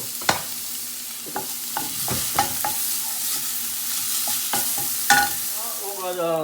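Oil frying in a hot frying pan, a continuous sizzle broken by several distinct scraping and tapping strokes from stirring, with a louder clatter toward the end; no voices.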